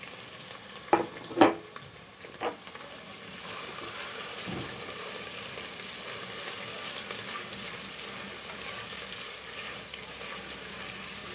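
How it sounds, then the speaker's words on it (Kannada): Four medium onions and four green chilies frying in a pot for kuska rice, a faint steady sizzle after a few sharp clinks and stirring knocks at the start. "ಸ್ವಲ್ಪ ಗೋಲ್ಡನ್ ಕಲರ್ ಬರೋವರೆಗೂ ನಾವು ಫ್ರೈ ಮಾಡ್ತಾ ಬರಬೇಕು."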